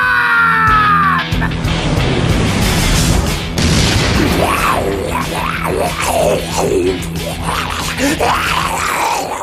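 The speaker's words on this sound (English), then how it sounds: "I call upon the power of the movie bomb!" A loud cinematic movie bomb explosion from the Turbo Power Rangers film booms with a heavy rumble, followed by wavering swooping effects and strained groans and screams.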